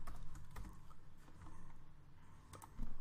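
Quick, light keystrokes tap out a spreadsheet formula on a computer keyboard, a soft, irregular clatter of close clicks over faint room hum.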